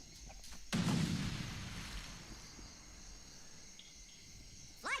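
A video-game bridge explosion with a sudden heavy boom that rumbles and fades over a few seconds, laid over a steady game backdrop with faint chirping ambience.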